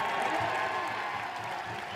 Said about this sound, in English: And you can tell the crowd is into it.